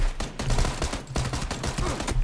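Continuous gunfire in the video game PUBG, a dense run of loud shots that keeps going without pause for the whole stretch.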